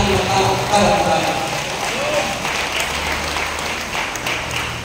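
Congregation applause at a healing service in Banadero, Batangas, a full room of clapping with voices and music mixed in, loudest at first and then settling to a steady patter.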